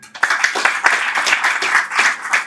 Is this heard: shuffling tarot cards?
no